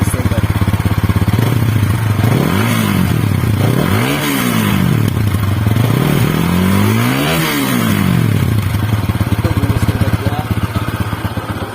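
A motorcycle with a stock exhaust idles loudly up close and revs three times, each rev rising and falling in pitch over a steady rumble.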